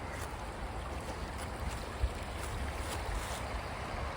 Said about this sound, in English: Another river.